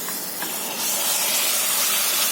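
Minced keema sizzles in a pan with onion, ginger-garlic paste and crushed green chilli, a steady loud hiss that swells slightly partway through and runs on without pause, with no voices.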